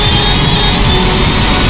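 A helicopter in the video game Left 4 Dead 2 gives a loud, continuous engine roar with a steady whine, unbroken throughout and with no talking.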